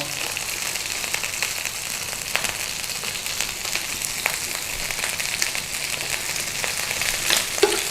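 Sausages and bacon frying in a pan give a continuous, close crackling sizzle with scattered pops and spits over several seconds, no voices.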